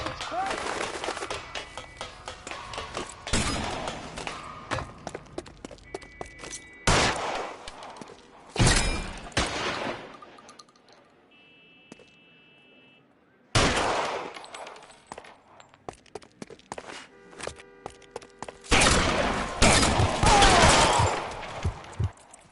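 Gunfire in the video game L.A. Noire comes in repeated bursts of rapid shots with loud bangs, separated by quiet gaps, and voices are heard now and then between the volleys.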